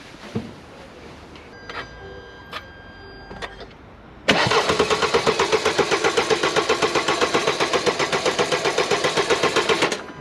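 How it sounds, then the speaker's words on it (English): After a few faint clicks, the engine of a rat-damaged 2018 Mercedes E220 cranks over and over in a steady rapid rhythm for several seconds without catching. "at the moment when you try to start the car, this is what happens."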